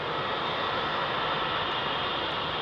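A Boeing 737 MAX departs Heathrow at night, its jet engines producing a loud, steady, broadband roar that fills the whole moment without a break.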